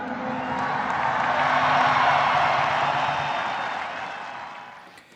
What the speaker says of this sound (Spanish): Después de la ovación contenida durante tanto tiempo